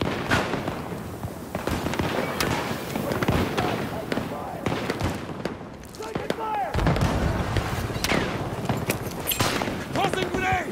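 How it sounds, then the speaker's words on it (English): Rapid bursts of gunfire and sharp grenade blasts from Battlefield 2042 crack through a busy, dense battle mix, with a voice talking over the steady combat noise. "tossing grenades!"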